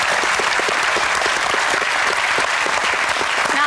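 Dense, steady applause from a large audience at an inventors' competition, sustained and even throughout with no pauses.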